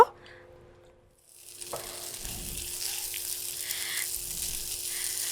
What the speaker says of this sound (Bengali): আবারও দিয়ে দিচ্ছি 1 টেবিল চামচ পরিমাণে সরিষার তেল। এখন আমি এখানে হচ্ছে মাংসটা ভেজে নিব।